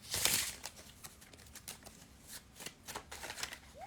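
A deck of playing cards is shuffled up close, opening with a loud riffle burst and followed by a series of softer riffles and taps at irregular intervals, with no talking.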